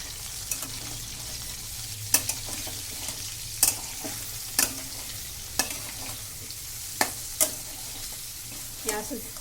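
Soybean chunks fry in hot oil in a pan with a constant close sizzle, broken by repeated sharp scrapes and knocks of the spoon as the chunks are stirred.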